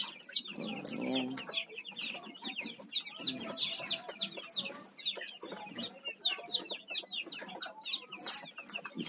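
Chickens cluck and call in a rural coop holding large hens and newly bought birds, a dense, continuous chorus of close and mid-distance clucks with occasional louder squawks, no talking.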